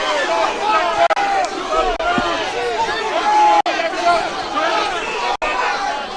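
A fight crowd pressed around the cage at a bout between Shane Ott and Carlton Haselrig, a busy, excited hubbub of shouts and cheers that runs steadily, with a few sharp impacts cutting through.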